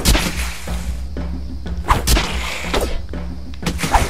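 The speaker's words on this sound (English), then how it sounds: "Explosion!" An explosion in the video game Volgar: several whooshing, thudding bursts in quick succession over a constant game soundscape, loud and close, with no talking.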